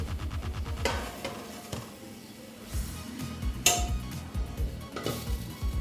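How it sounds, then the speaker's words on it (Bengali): A cooked dhoka mixture of egg and boiled potato is scraped from a pan onto a plate, giving close metallic clinks and scrapes of a utensil against cookware over a faint background hiss, with no talking. "এইবার আমি এটা একটা প্লেটে ঢেলে নিচ্ছি"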